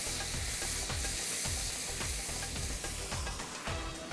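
Onion, tomato and yogurt masala for beef pulao is fried over high heat, with a loud, constant sizzle close up and repeated scraping stir strokes in a regular rhythm, without any voices.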